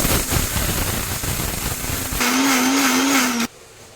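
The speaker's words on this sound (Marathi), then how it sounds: "मी वाजून घेतलेले एक वाटी साबुदाणे मिक्सरला वाटून घेते तर बारीक असे वाटून घेते" A mixer grinder whirs loudly as it grinds a bowl of sabudana into fine powder, the motor note rising and steadying before cutting off abruptly near the end, no talk.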